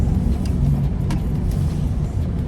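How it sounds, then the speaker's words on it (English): Cabin noise inside a 2014 Ram 1500 Express pickup over a bumpy road, a continuous low rumble of engine and tyres with scattered knocks and rattles from the jolts. "I'm in my car right now, my truck right now, recording, and this super bumpy ride."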